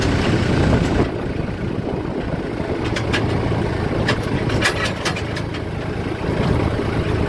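A tractor or farm vehicle engine runs steadily at about 1100 rpm, a continuous loud low rumble that holds constant throughout, with some faint clicking and rattling on top and no talking.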